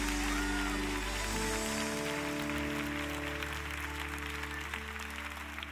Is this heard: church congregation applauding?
yes